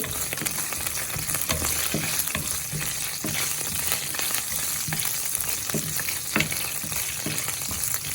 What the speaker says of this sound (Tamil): முதல் போட வேண்டியது பச்சை மிளகாய் இதை முழுசாக போடுவோம் அது லேசாக கிளறி விட்டுட்டு